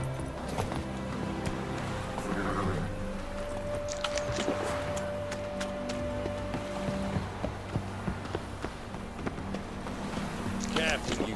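Roach the horse galloping in The Witcher 3, steady hoofbeats running beneath a dense game soundscape of wind and music, with a voice speaking briefly over it.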